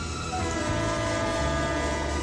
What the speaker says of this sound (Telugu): అరే ట్రైన్ వచ్చేసింది